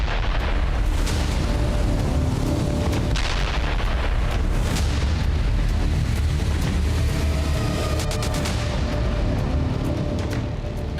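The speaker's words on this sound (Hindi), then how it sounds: "अमेरिका के सबसे बड़े फ्लोटिंग एयरबेस के पास कितना खतरनाक विस्फोट होता है" A loud, continuous deep rumble of a massive underwater blast, with repeated heavy booms and crackling roar filling the whole stretch without pause.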